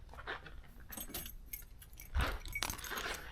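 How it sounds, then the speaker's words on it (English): Car keys for a 1973 Oldsmobile Delta 88 jangle in a few brief metallic bursts, close by, with a sharper clink near the middle. "let me grab the keys so we can check out the trunk"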